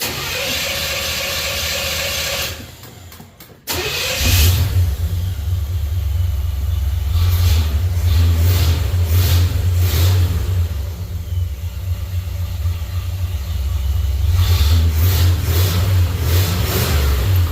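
A 1987 Monte Carlo engine cranks, stalls briefly, then catches and settles into a loud, deep idle. It is revved up several times in rumbling surges that swell and fall back, close and alone.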